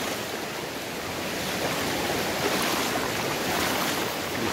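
Steady, broad rushing of flowing water on the Kanarom River near Kampung Marak Parak during a fish-harvesting outing, a continuous close wash with no voices.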